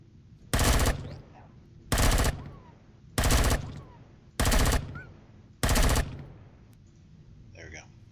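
Five separate bursts of automatic gunfire at regular intervals, shooting aggressive creatures in Empyrion Galactic Survival, each burst loud and close with quiet gaps between and faint creature noises.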